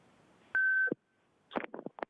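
A steady electronic tone rings out clearly for about a third of a second on a county board of supervisors' public-comment call-in line, then a caller begins talking over the phone line.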